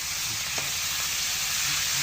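Meat sizzles as it is fried and braised in a pan, a soft, steady hiss with faint low stirring bumps, close and moderately quiet.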